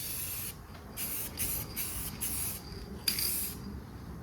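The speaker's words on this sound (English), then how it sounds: "We'll start sanding on it some more." A van body being sanded by hand, a series of rough, rhythmic scraping strokes in quick bursts of about half a second, close and fairly loud with no talking.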